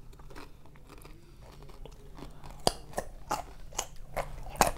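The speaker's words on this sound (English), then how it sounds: "Crunchy carrot." A crunchy raw carrot dipped in homemade guacamole is bitten and chewed, giving a series of sharp, close crunches that grow louder and more frequent toward the end, with no talking.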